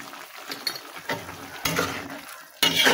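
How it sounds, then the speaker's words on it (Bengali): A vegetable curry being stirred in a pan, with a few scraping strokes and soft sizzling in short bursts, the last stir louder and closer. "একটু নাড়াচাড়া দিয়ে নিই"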